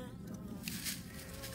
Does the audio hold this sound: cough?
no